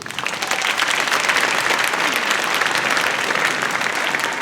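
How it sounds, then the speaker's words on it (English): Sustained audience applause fills a school winter orchestra concert at Hammarskjold Upper Elementary, dense steady clapping that swells quickly and holds loud throughout. "please give yourselves a round of applause."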